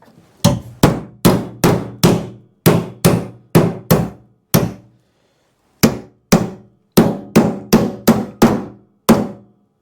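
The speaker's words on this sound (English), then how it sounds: "So I'm literally just going to try to beat it over" A hammer strikes a rusted sheet metal panel from a Suzuki Samurai held against a dolly during rust repair. Sharp ringing blows land in rapid bursts of two to five, with a brief pause partway, loud and close with no talk.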